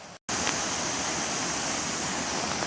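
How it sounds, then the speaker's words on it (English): A fast-flowing, serious river in Welsh woodland rushes with a loud, steady broadband roar, heard up close and alone after a brief moment of silence at the start. "So the river's actually quite serious"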